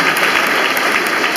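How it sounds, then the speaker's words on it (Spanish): Audience clapping for a guest musician at a cueca folk performance, a brief, steady patter of applause at moderate level with no voices over it. "Que siga, por favor, el aplauso para Eduardo Guidolín, músico invitado"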